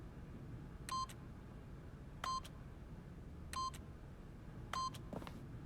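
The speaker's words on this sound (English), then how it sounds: "by simply pushing random buttons on the keypad, Stanley happened to input the correct code by sheer luck" Four separate keypad beeps in The Stanley Parable, each a short electronic tone spaced roughly a second apart, clear over a faint low background rumble with no voices.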